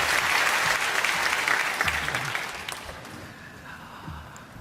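A church congregation at a Sunday worship service claps to welcome the guest pastor, a loud burst of applause that tapers off after about three seconds, leaving a few scattered claps.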